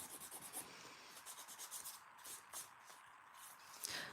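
A mini mandrel nail drill with a sanding band files fingernails close up, giving faint, soft rubbing and scraping strokes in short bursts with small pauses.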